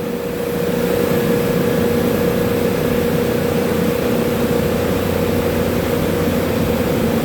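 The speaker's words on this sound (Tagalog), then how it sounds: "So gumagana na yung motor." Boiler burner motor in star/delta (Y) connection running steadily after a controller reset, a loud continuous low hum with a steady mid tone, close by and unbroken throughout.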